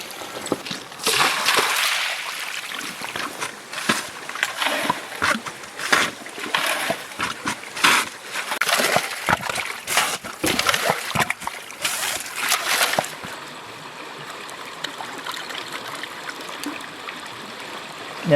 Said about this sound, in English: we're just going to quickly wash this whole concentrator out, brush it down, yabby pump it up at the bottom